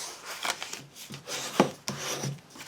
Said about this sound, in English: Using your bone folder, just fold and burnish each of those